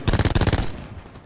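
Rapid automatic gunfire in the video game Call of Duty Black Ops 4: a loud, close burst of about ten quick shots in even rhythm, ending abruptly and trailing into a short fading echo.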